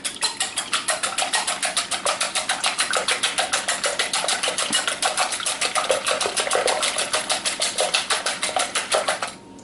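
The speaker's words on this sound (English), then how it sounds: "I'm starting with 4 eggs that I'm going to whisk up." Four eggs are whisked in a bowl for crepe batter, making a fast, even run of rhythmic clicking strokes that stays loud and close for the whole stretch before stopping at the end.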